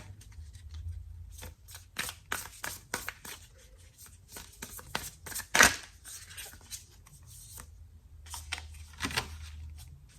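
A new deck of playing cards being shuffled, with a long run of quick crisp riffling bursts and snaps close by, one sharper louder snap midway, and a soft low rumble underneath at the start and near the end.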